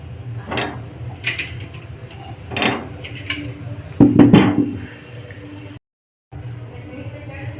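A few hard clunks and rattles as potatoes drop into a metal pressure cooker holding a little water, close by, with faint background noise between them.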